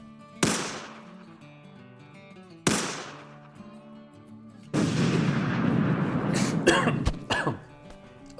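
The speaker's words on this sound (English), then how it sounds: "Sorry for the loud cough." Loud, harsh coughs from someone who swallowed bourbon wrong: two sharp single bursts a couple of seconds apart, then a longer rough coughing fit with throat clearing, close up.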